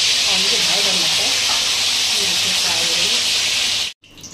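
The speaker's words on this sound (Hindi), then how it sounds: "अभी मैं ये फिश जो है ना ऑयल में डाल दूँगी फ्राई करने के लिए" Fish sizzles loudly in hot oil for a dahi fish recipe, a dense, steady frying hiss that holds close and strong before cutting off abruptly near the end.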